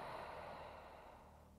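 A pregnant woman exhales during a beginner prenatal pilates exercise, one long, soft, airy breath fading gradually.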